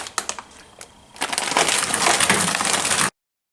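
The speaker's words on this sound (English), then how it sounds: "we're going to cut up our veggies very quickly before we deal with our proteins" Collard greens, spinach and green beans being chopped on a board, a soft crunching at first, then a louder, steady burst of rapid cutting for about two seconds that stops abruptly.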